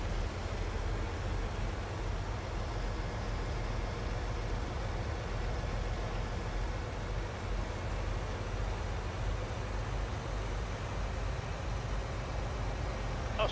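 A truck drives steadily in Farming Simulator 19, giving a constant low engine rumble and broadband road noise that holds level the whole time without change.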